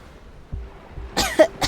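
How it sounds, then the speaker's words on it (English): A character coughing up a mouthful of seawater in a Love and Deepspace visual novel scene, sounding as a few short, close, harsh coughs in quick succession near the end. "I cough out a large mouthful of seawater"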